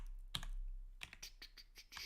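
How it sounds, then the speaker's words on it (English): Computer keyboard typing: a single sharp keystroke, then a quick run of irregular clicks close by, with no speech. "Typing, haha."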